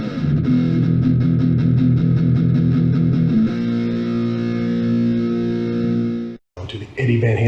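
Electric guitar played through a Spark amp on a distortion preset: rapid chugging palm-muted chords, then sustained heavy distorted notes ringing out, loud and close, ending in a brief cut and a new burst.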